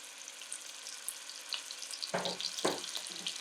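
Garlic frying in butter and olive oil for a shrimp dish, a steady soft sizzle that swells with two louder bursts of crackle near the end.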